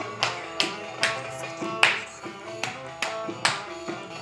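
Several sharp hand claps at a lively party, spaced roughly half a second apart in an irregular rhythm, fairly close and clear over a steady background of music.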